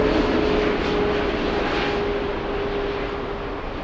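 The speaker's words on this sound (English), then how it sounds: "This is Lufty Flight 441 inbound from Houston. One of their 747-800s." A Lufthansa Boeing 747-8 quadjet arriving as Flight 441 from Houston roars loudly and close, a broad, steady engine rumble with a faint whine running through it and no talk.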